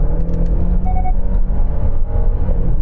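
A Genesis GV70 engine roars at full throttle, a loud continuous low rumble that climbs steadily in pitch with road noise mixed in.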